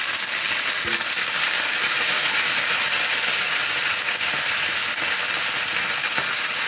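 Chopped tomatoes hiss and sizzle steadily in a hot pan, a loud continuous frying sound with occasional faint clinks and no talk.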